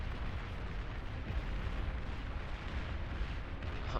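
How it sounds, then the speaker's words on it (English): Artillery fire in the strategy game Beyond All Reason comes as a continuous, dense rumble of overlapping low blasts and explosions, steady and fairly distant with no talk. "These artillery fires."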